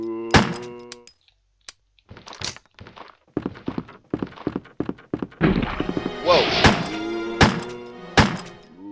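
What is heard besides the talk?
gunshots at a zombie in the video game Resident Evil 1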